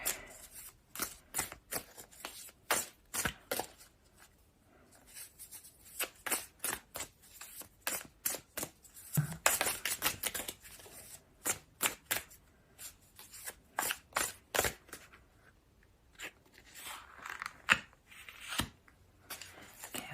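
Tarot cards handled and laid out at close range, with crisp repeated flicks, snaps and slides of cardstock in a steady irregular rhythm, loud and intimate with almost no talking.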